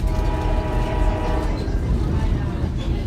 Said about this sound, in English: I heard the train horn.